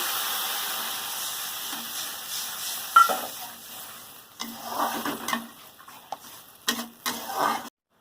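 Mustard paste masala fries in a pan as water goes in, a continuous hiss followed by bursts of bubbling sizzle and stirring scrapes, with some faint background noise.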